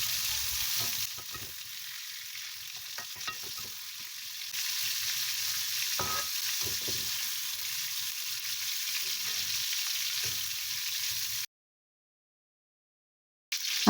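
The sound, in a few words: sautéing onions and dried chili in oil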